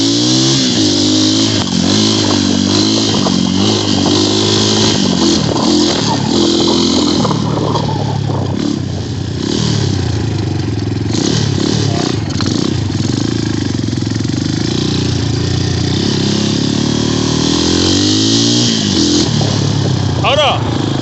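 An XMOTOS pit bike engine buzzes and revs continuously while being ridden outdoors, loud and close, its pitch rising and falling with throttle changes, with voices talking over it.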